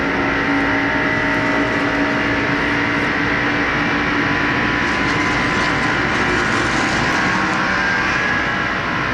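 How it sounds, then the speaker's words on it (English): A loud, continuous engine roar with a ragged, uneven texture, a race car sputtering after over-revving out of the pits, heard steadily from an in-car microphone at the 1989 Champion Spark Plug 400. "car sputtering there on the in-car camera and microphone"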